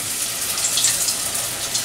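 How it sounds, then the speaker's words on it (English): Food sizzles as it fries in hot oil in a fryer, giving a steady, close, hissing crackle with no one speaking. "Listen to that sizzle."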